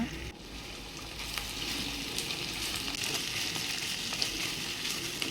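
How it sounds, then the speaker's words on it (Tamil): Onions sautéing in a pan for a Tamil prawn thokku, a steady, dense sizzle and crackle of frying that holds loud and even throughout, with a few soft stirring scrapes and no talk. "இப்போ வெங்காயத்தை போட்டு வதக்குறோம் கொஞ்ச நேரம் வதக்கி விட்ருங்க"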